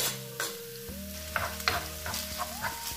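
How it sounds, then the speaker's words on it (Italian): Spring onion and smoked salmon sauté in a pan, a steady sizzle broken by scraping stirs and clinks, with a tonal hum running underneath throughout. "Soffrigge il nostro cipollotto, quindi mettiamo il salmone"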